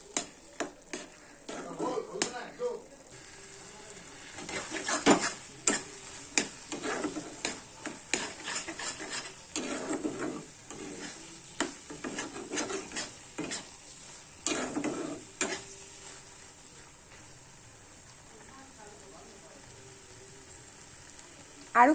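Taro (kochu) being stirred in a pan, repeated close scraping strokes of a spatula over a low sizzle in an uneven rhythm, loud and alone, fading to a softer hiss toward the end.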